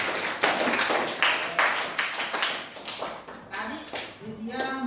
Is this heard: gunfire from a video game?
no